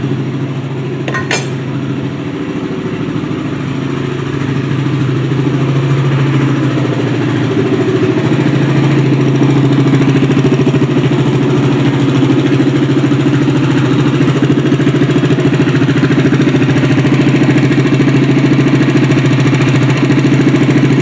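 A small go-kart or mini bike engine runs steadily and loud close by, holding a droning, throbbing tone with no break, and nobody speaks.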